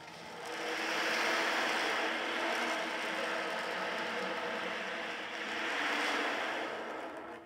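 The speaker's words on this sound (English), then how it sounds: "But that sound is made by lots of beads." Ocean drum with many small beads rolling round and round inside, giving a continuous close hiss that swells and washes like surf, rising twice over several seconds.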